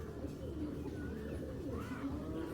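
Low, soft cooing of racing pigeons, continuous and fairly faint against a steady background hum.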